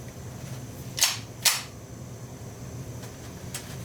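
Two sharp, loud cracks from a Retay blank pistol firing blank rounds, about half a second apart, followed by a faint third report near the end against quiet background hiss.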